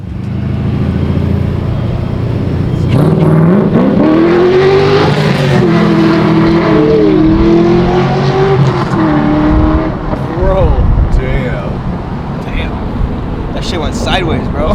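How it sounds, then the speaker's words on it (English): An LS V8-swapped Datsun 240Z is driven hard, its engine roaring loud and close as it revs up through the gears with rising pitch sweeps and tire spin, continuous for the whole stretch. "He's 2 seconds down the road and blowing through gears, spinning tire."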